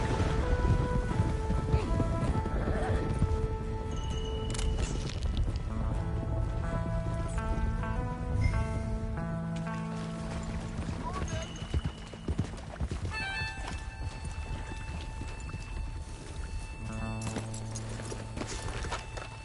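Horse hooves clip-clop steadily while riding in Red Dead Redemption 2, a continuous trotting rhythm set against a background music score.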